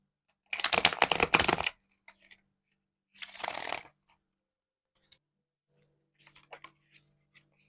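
Tarot cards get shuffled in two quick riffling bursts close to the mic, followed by a few soft taps and card slides, with no talking.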